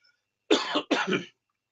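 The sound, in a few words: cough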